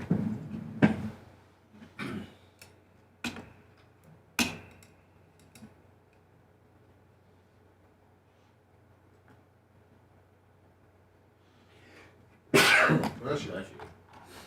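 A single sharp human sneeze bursts out loudly near the end, after scattered clicks and talk from a radio show studio, with speech continuing underneath.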